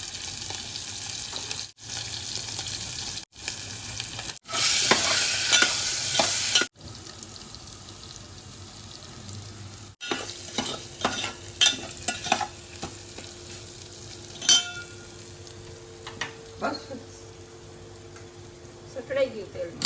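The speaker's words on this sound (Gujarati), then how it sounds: "સટડાઈ ગયું તેલ." Vegetables are tempered in hot oil in a home kitchen: a loud sustained sizzle erupts, then settles into steady frying with repeated scraping and clinking of a spoon stirring the pan.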